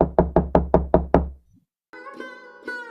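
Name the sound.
knocking on a door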